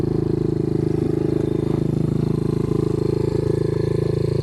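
A dirt bike engine idles steadily and close by outdoors in the sun, a fast even low burble with a dense rhythmic pulse that never rises into a rev, no talking over it.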